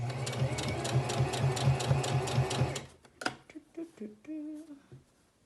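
A sewing machine stitches a fabric face mask in a fast, rhythmic whirring run close by for about three seconds, then stops. A voice talks over the quieter tail end.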